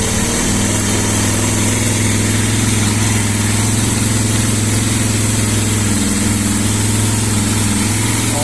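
A Suzuki Djebel 250 motorcycle engine idles cold after valve clearance and timing chain work, running with a steady, loud, close-up patter throughout and no voices.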